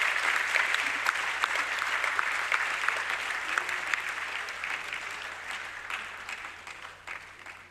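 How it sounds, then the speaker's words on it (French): Sustained audience applause fills a ceremonial hall at a formal annual opening ceremony, a steady dense clatter of many hands that holds throughout and slowly tapers toward the end. "Sous vos applaudissements, s'il vous plaît."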